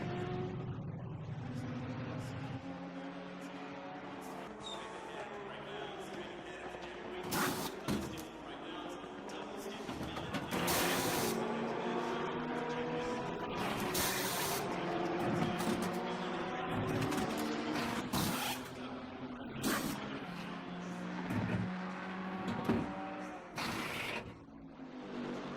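Pit stop tire change during free practice in a sim racing game, Vantage race car in the pits: mechanical ratcheting clatter and engine tones with several sharp impact bursts over a continuous rumble, people talking throughout.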